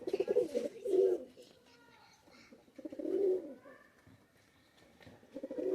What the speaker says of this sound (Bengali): এ হচ্ছে মাদি কবুতর